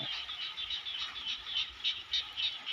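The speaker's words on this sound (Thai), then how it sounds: "ตัวนี้ก็จะเป็น พ่อพันธุ์ พ่อพันธุ์กบ พ่อพันธุ์ดีพร้อมผสมแล้ว" Frogs croaking steadily at feeding time in the rain among tadpoles and breeding frogs: a continuous chorus of rapid, pulsing calls, moderately loud and unbroken, with a soft rain-like wash underneath and no talking.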